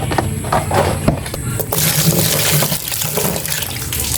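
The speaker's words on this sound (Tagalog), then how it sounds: "Tapos ito, guys, lagyan natin ng tubig na mainit ulit." Hot water pours steadily onto cleaned catfish in a kitchen, a continuous splashing gush that grows broader and louder partway through, with faint background voices.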